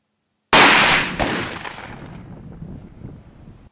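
Fusil ELOS Traqueur 12-gauge shotgun firing 31.5 g Brenneke slugs with grease wads, two loud, close blasts about a second apart, each trailing off in a long outdoor echo.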